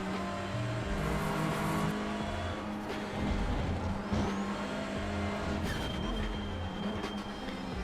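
A TCR touring car engine in the iRacing simulator drones steadily and loudly throughout at Brands Hatch, with shifting revs and gear changes, alone without talk.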